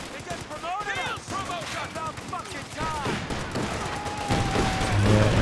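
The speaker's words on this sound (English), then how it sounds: "the machine gun from Olvadi saving the day there" Machine gun fire in a Company of Heroes 2 multiplayer battle: rapid, continuous crackling bursts under steady commentary talk, with other battlefield sounds and a building rumble toward the end.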